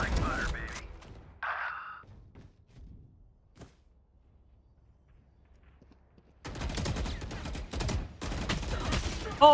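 Automatic gunfire in the tactical shooter Valorant, heavy recoil bursts: a loud opening flurry, a quiet gap, then sustained dense shooting from about six seconds on, with players talking over it.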